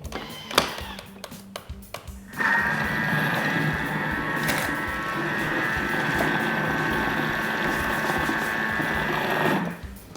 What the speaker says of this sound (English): we're going to blend that, and we're doing that for also 5 seconds